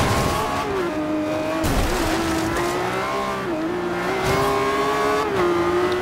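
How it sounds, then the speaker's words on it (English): Hypercars race through a street circuit in the video game Forza Horizon 2, with loud, continuous engine roar that rises and falls through gear shifts, plus brief tire squeals, all without talk. "Since it's going to be a hard race because these cars are just super fast."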